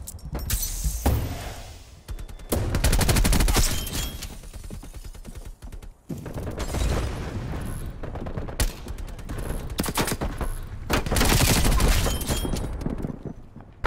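Sustained light machine gun fire in the video game Call of Duty Black Ops Cold War, long loud bursts of rapid shots with brief gaps, dense and close.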